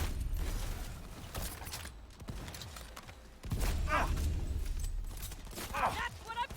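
Gunfire from Cyberpunk 2077's Phantom Liberty expansion: scattered shots and clattering impacts, with a louder sustained exchange of fire in the second half over a busy game soundscape.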